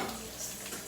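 Cabbage sautéing in a pot, a steady close sizzle with faint stirring and scraping throughout, no voices.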